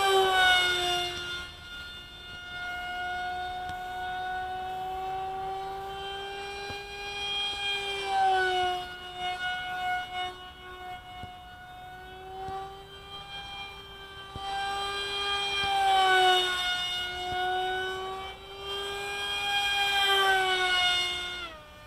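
RC F-22 pusher jet model flying, a sustained whining tone that sweeps up and down in pitch as it passes, louder at moments, with no voices.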